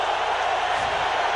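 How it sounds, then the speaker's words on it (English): A steady murmur of crowd noise fills a football stadium during an NFL game between the San Francisco 49ers and the Indianapolis Colts in 2001. It is a continuous, even roar with no distinct peaks. "A little noise from the crowd."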